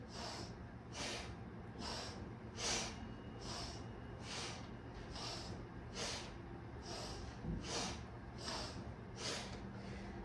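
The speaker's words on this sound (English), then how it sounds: "making those exhales forceful through the nose" Forceful exhales through the nose in Kundalini yoga breathing, a steady rhythmic train of about a dozen sharp, evenly spaced nasal puffs, close and alone over a low background hum.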